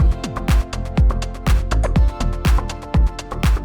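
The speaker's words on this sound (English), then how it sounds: "And then we add a dotted bassline" A programmed drum loop in Ableton with a dotted bassline pulsing under the kicks and hats, giving a syncopated, driving groove, loud and clear with no talking.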